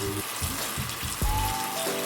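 Wet squelching and splashing as soapy water is squeezed from a beauty blender makeup sponge, several short squishes in a loose rhythm followed by a brief gush, close and fairly loud.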